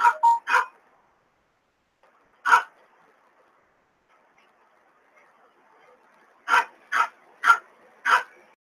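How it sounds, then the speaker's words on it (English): Dogs barking indoors: a quick burst of three barks, a single bark, then four spaced barks in a row, close and loud with silence between. "Go start a broadcast and the dogs want to go nuts."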